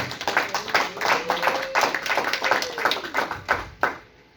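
A church congregation claps in praise of the Lord, with steady, rapid, fairly close hand claps continuing throughout before tapering off at the end.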